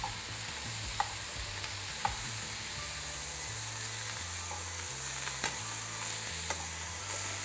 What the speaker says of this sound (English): We have it like in high flame, and we just let it to get the color all around the meatballs.